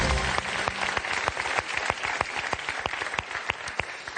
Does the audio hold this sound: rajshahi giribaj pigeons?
no